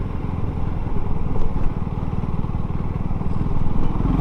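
A KTM Duke 390 motorcycle is ridden in third gear, its engine putting out a loud, steady, close thrumming pulse that holds throughout with slight swells and no talking.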